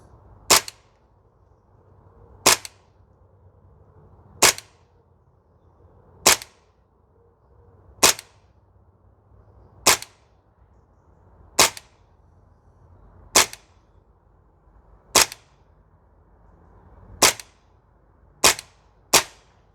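Tokyo Marui MP7A1 gas blowback airsoft rifle fired on a range, a dozen sharp, loud single shots with crisp blowback cracks, spaced roughly every one to two seconds and alone against a quiet background.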